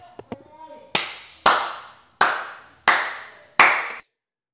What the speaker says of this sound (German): Ich klatsche auch mal gerade in die Hände hier, da hört man es noch besser.